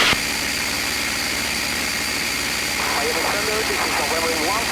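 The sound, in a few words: P-51 Mustang airplane engine in flight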